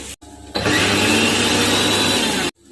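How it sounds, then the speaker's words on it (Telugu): A mixer grinder grinding coriander seeds, lentils and spices for idli chutney powder whirs loudly, starting abruptly after a short pause and running at a steady, harsh roar for about two seconds before cutting off. "ఇప్పుడు మొత్తం అంతా కలిపి మిక్సీ పడదాం"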